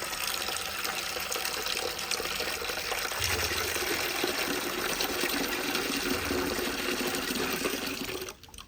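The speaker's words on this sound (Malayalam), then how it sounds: "ബക്കറ്റിലേക്ക് വെച്ച് ഇച്ചിരി വെള്ളം കൊണ്ട് അങ്ങ് പോവാട്ടോ." Tap water gushes into a bucket for washing clothes, a loud, steady rushing pour heard close up that runs without a break before cutting off abruptly near the end, with no talk.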